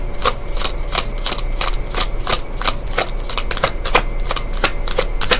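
Sticky playing cards being shuffled by hand, close and loud, a rapid series of riffling flutters in quick rhythmic bursts through the whole stretch, with no speech.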